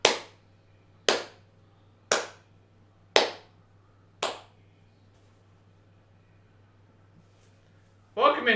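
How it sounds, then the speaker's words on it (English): Five single hand claps spaced about a second apart, slow and deliberate, ringing in a quiet room, then a brief burst of noise at the end. "We gotta do the slow clap."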